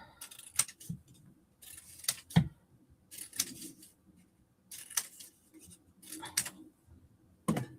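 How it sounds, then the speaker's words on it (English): Scissors snip through paper in a series of separate crisp cuts spaced over several seconds, with small handling noises between them, close and fairly quiet. "I like cutting paper."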